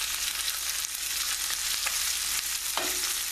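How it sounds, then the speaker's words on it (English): Veal cutlet frying in butter in a pan, a loud continuous hiss and crackle with occasional sharp pops and scrapes, steady throughout with no voices. "As long as you hear that sizzling sound, that means you have enough heat."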